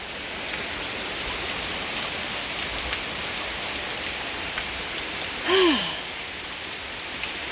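Steady rain falls outside during a pop-up storm, a soft, even hiss of drops that continues throughout, broken by one short squeaky sound near the end.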